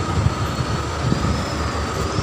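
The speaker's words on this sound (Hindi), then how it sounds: "आनंद विहार रेल स्टेशन है" Train rumble at Anand Vihar railway station in Delhi, a steady loud low roar with a faint high squeal running throughout, no voices.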